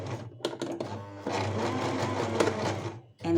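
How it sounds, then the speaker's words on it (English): A sewing machine stitches in a continuous close mechanical whir, briefly pausing near the start before running steadily, with no speech over it. "now we are going to start sewing."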